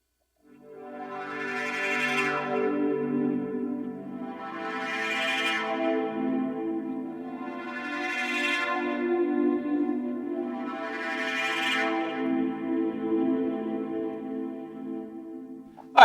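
Four slow, swelling pad chords from a Modal Argon8 synthesizer with reverb, each rising and fading into a soft wash, sustained and smooth with no voices.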